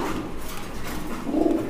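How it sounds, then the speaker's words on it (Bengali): Pigeons at a pigeon market coo close by, a soft low murmur that rises to a fuller, louder coo near the end, with no speech. "পাখি কবুতর পেয়ে যাচ্ছেন"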